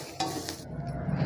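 Fresh fenugreek leaves stirred and dry-roasted in a pan, with a close, steady scraping and soft sizzle throughout a short stretch, no voices.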